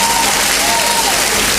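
A crowd at a stand-up comedy contest in Asansol breaks into loud, dense applause, a continuous close wash of clapping with a thin whistle-like tone drifting through it.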